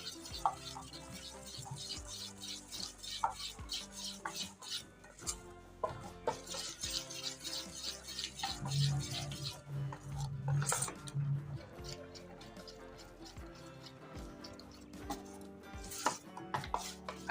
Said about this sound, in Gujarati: આદુ મરચી અને મીઠું આપણે પહેલાં સરસ રીતના મિક્સ કરી લઈશું